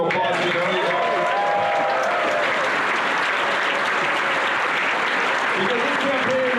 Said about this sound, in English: Give yourselves a round of applause for being early adopters.